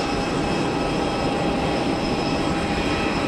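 Steady, loud jet roar of a Qatar Airways airliner at Geneva Airport, a broad continuous rumble with a faint high whine, holding level throughout with no voices.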